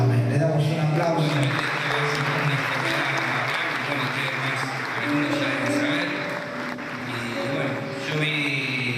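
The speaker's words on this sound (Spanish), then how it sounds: "Le damos un aplauso" Church congregation applauding together, a steady wash of clapping held at even loudness throughout, with tonal music or voices running underneath.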